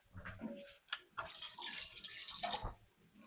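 Water is poured into a pot of rendered beef tallow, giving quiet close splashes and trickles in several short bursts with brief pauses between them.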